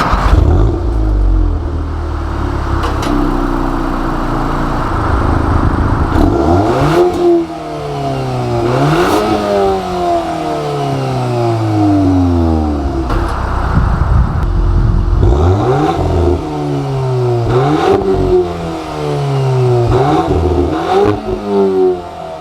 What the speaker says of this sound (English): It's one of the nicer 4-cylinder sounds that you can get on the market right now